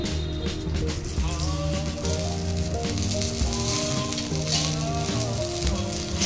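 Ginger and cumin paste hitting hot oil in a pan for a horse gram dal, giving a dense, continuous close sizzle with some tonal hum from the cooking setup underneath, no speech.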